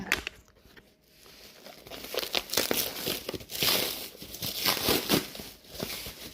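A snack package is torn open up close: loud crinkling plastic and rough ripping bursts continue for several seconds, with no talking.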